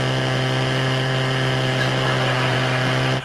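A small 82 cc two-stroke chainsaw engine runs at a loud, steady high idle for about three seconds, its buzzing harmonic drone holding constant before cutting off at the end.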